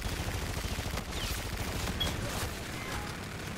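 Rapid automatic gunfire from Call of Duty: Infinite Warfare free-for-all multiplayer crackles in a dense, continuous fusillade, steady and fairly loud with no talking over it.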